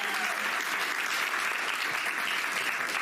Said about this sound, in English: Let's give a big round of applause for Ryan.